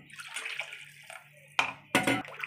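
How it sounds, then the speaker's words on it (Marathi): Water is poured into a masala mixture to make the rassa gravy for Maharashtrian patwadi, with a few close, brief splashing pours at low volume and no talk. "आणि आपण रशासाठी पाणी टाकूया."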